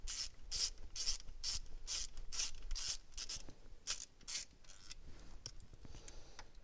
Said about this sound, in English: right now I'm taking these bolts out